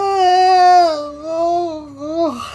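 A long drawn-out yawn from a Pokémon in Pokémon Shining Pearl, a loud, close, wavering voiced cry that slides down and fades over about two and a half seconds.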